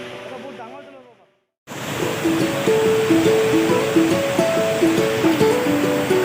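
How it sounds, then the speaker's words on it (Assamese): Rushing water from Toklangso waterfall in Karbi Anglong makes a broad, steady roar after a brief silent cut. Birdsong can be heard over the water. "বৰ্তমান আপোনালোকে যি দেখিবলৈ পাই আছে এয়া হৈছে কাৰ্বি আংলঙৰ টকলাংচু জলপ্ৰপাত"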